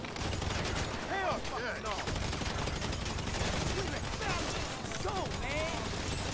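Rapid gunfire in the online driving and shooting game GTA Online, bursts crackling continuously through the scene while someone talks over the shots.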